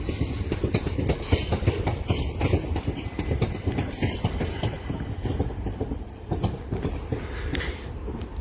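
A Class 387 electric multiple unit passes through a station on the Brighton Main Line, sounding as a loud, close, steady rumble with rhythmic clickety-clack from the wheels throughout, and no talking.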